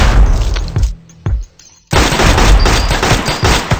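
High power rifle firing in the 2D shooter Gun Mayhem: loud bursts of gunfire, a brief silent gap around the middle, then a sustained dense barrage of shots close and forward.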